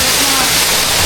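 Rushing water pours steadily at Tara Falls, a dense, continuous roar that fills the short moment with no break or change.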